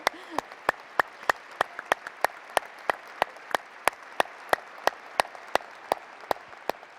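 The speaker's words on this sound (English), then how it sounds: "we could give Molly a round of applause" Sparse, evenly spaced claps from a small audience at a summit session for a program graduate, fairly quiet, a slow steady rhythm of single sharp hand claps without any crowd noise.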